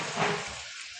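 Water splashed into a hot pan of turmeric and spice tempering for a raw mango dish, bursting into a loud, steady hiss that peaks early, then settles into a quieter simmering sizzle.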